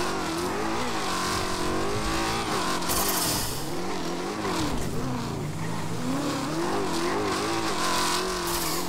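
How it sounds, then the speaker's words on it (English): Video game car engine in GTA V revving hard right behind, a continuous loud roar with rising and falling pitch sweeps and brief tire squeal, no talk over it. "I hear that car right there on top of us."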